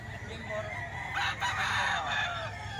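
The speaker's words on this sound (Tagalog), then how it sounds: "Manok nila mga bossing, oh" A rooster crows loudly over a farmyard of clucking chickens on a farm in Arayat, Pampanga, with steady background noise throughout.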